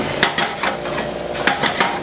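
Garlic sautéing with cooked-down bok choy in a hot pan, a loud close continuous sizzle broken by several sharp scraping stirs of a utensil against the pan, with no talking.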